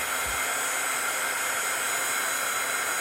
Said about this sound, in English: I'm going to go ahead and run my heat gun on it just a little bit and get it dry.